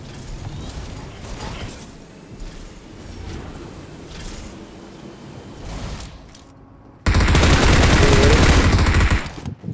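Gunfire crackles off to one side in a video game over clattering mechanical noise. A loud, dense burst of rapid fire comes near the end.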